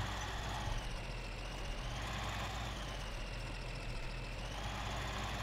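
A tractor engine in Farming Simulator runs at a steady idle, a constant low rumble with a droning whine and no other sounds.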